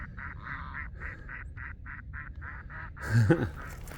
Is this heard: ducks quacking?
yes